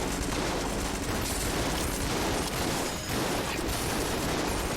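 Dense, continuous gunfire and bullet barrages from the Enter the Gungeon video game, a loud, steady hail of shots with no pauses throughout.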